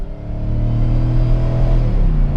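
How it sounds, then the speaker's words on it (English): A Jeep JK Wrangler with a swapped-in LS 5.3 V8 runs in a deep, steady rumble that builds slightly as it holds. The engine is loud and close, heard from inside the vehicle. "you're going to have that V8 sound"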